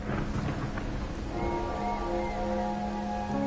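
Steady rain falls in the video game Wuthering Waves, a soft constant hiss with faint tonal music layered over it, low in level and with no voices.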